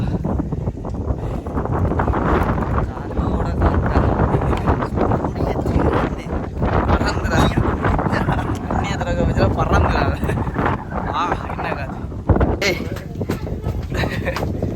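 Strong wind buffets and roars continuously across the microphone on a trip from Vavuniya toward Sigiriya, Sri Lanka, loud and gusty throughout, with voices faintly underneath.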